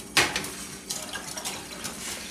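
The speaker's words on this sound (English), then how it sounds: "I'm just taking some of this hot mixture and whisking it in, just to temper that sour cream" A whisk scrapes and clinks against a bowl as hot mixture is beaten into sour cream for a stroganoff-style dish, with a sharp metallic tap at the start followed by steady, close, irregular stirring and rattling.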